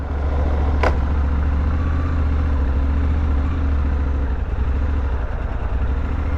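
A Suzuki V-Strom 800DE motorcycle engine idles steadily and close by, a low even rumble with one brief sharp click near the start, and no voices.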